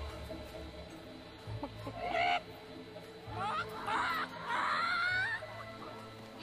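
Chickens in the video game Fable 3 cluck and squawk in several short rising bursts over a steady game soundscape, with a quiet low tone running underneath.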